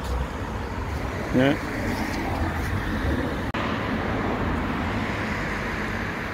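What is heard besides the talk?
cars driving on a road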